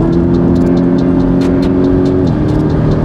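Porsche Cayman GTS accelerating hard, a loud close engine drone rising steadily in pitch before a sudden drop at a gear change, with ticking mechanical clicks over the top.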